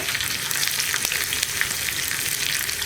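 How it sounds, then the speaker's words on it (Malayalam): Sliced onions for a carrot moru curry frying and being stirred in a pan, a loud, dense and steady close sizzle with occasional soft scrapes of the spoon. "ഉള്ളി ഇനി ഒന്ന് ബ്രൗൺ ഷെയ്ഡായി വരുന്നത് വരെ നമ്മളൊന്ന് ഇളക്കി കൊടുക്കുക"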